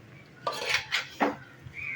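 A spoon mixing cooked rice and masala in a pan; a few close, bright metallic scrapes and clinks in an irregular rhythm, heard alone without talking.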